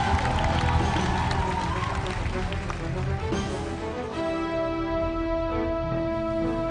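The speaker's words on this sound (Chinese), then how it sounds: "掌声，再给这六位选手一次热烈的鼓励" An audience at a televised singing contest final gives warm applause to six contestants; steady, dense clapping and crowd noise fills the first few seconds before music with sustained tones rises and carries on to the end.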